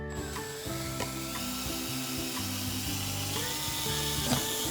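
A power drill bit bores holes through painter's tape into a planting pot, making a steady mechanical whir with ratcheting clicks, heard under continuous background music.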